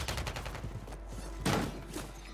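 Rapid bursts of shotgun fire in a first-person shooter video game, several loud booms in quick succession, with the biggest blast about halfway through.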